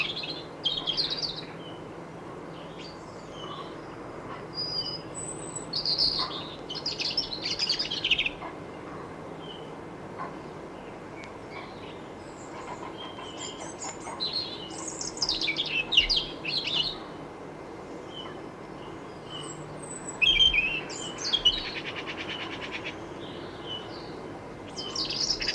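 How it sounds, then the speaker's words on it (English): Several birds chirp and call in scattered bursts over a quiet outdoor backdrop, their cries coming and going at moderate distance across the stretch. "He spots the clamour of birds and glides down."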